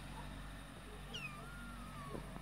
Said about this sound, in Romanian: Aici mai stă o pisică.